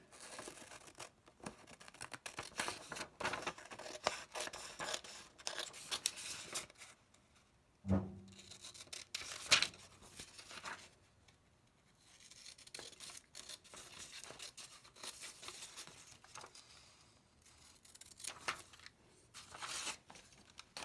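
Scissors snip through a paper tube marking guide for a Loadstar II rocket kit, close and quiet, with repeated crisp cuts and paper rustling in uneven bursts and no talking.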